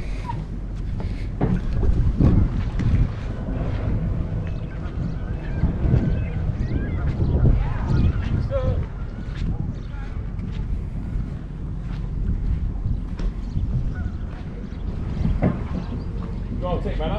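Sea-Doo personal watercraft riding river rapids, a steady engine drone mixed with rushing water and wind buffeting the microphone, loud and continuous, with voices faintly underneath.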